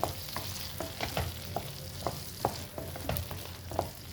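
Kashmiri chili paste frying in a pan, a quiet steady sizzle broken by regular spoon or spatula strokes scraping and tapping about once every half second, no voices.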